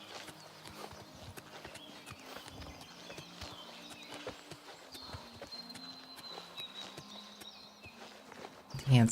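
A horse's hooves clip-clop steadily while riding in Oblivion Remastered, a brisk regular rhythm of close, clear hoofbeats over faint ambient game sound, ending with a louder thump.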